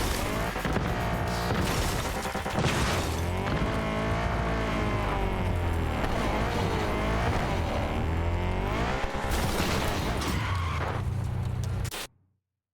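A car engine in Cyberpunk 2077 roars loudly and continuously, rising and falling in pitch as it accelerates and shifts, with occasional skids and thuds, then cuts off abruptly near the end.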